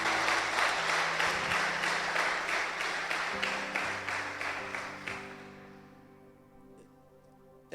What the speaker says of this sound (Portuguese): Então aplauda o Senhor, só você que crê.